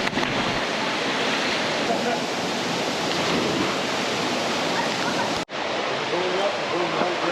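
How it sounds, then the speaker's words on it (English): The Acomat waterfall in Guadeloupe roars with a steady, dense rush of falling water that runs continuously at close range and breaks off for a moment near the end. "So that was the Acomat waterfall, and it was really cool."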